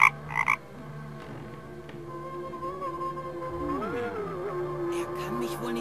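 A toad in the video game The Night of the Rabbit croaks in a low, drawn-out, wavering tone, steady and close, after a couple of brief bright chimes at the start.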